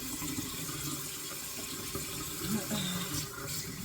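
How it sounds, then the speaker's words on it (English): Celery being washed under a running kitchen tap, a steady broadband rush of water splashing in a sink that holds throughout, with a brief brighter gush of flow near the end. "Let's wash our celery."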